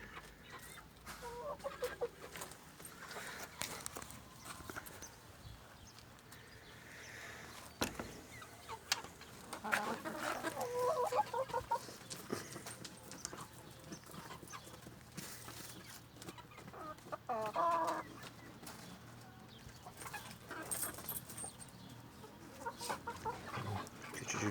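Egg-laying hens and roosters clucking and murmuring steadily at moderate distance, with occasional sharper calls standing out from the flock.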